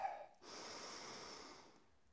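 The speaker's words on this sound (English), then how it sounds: "Deep breathing in through the nose," A single deep breath drawn in through the nose, a soft, steady airy inhale close to the microphone in an otherwise quiet space.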